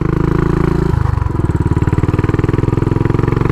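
A Royal Enfield Bullet Trials 500 single-cylinder motorcycle engine runs close and loud, with an even thumping pulse that shifts pitch slightly about a second in and then settles into a steady rhythm.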